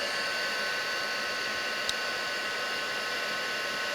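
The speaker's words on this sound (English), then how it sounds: "let me grab my heat tool" Heat tool blowing hot air to melt embossing powder on a card, a steady, even whooshing hiss held throughout at constant level.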